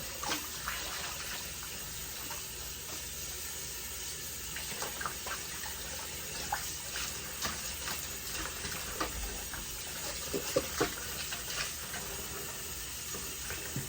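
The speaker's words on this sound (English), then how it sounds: "So I'm gonna rinse them all of the wigs in now." Running water streams steadily over wigs being rinsed, a soft continuous splashing hiss with small irregular drips and knocks, close but fairly quiet.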